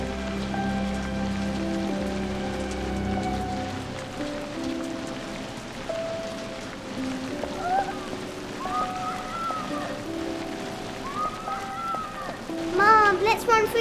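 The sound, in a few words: rain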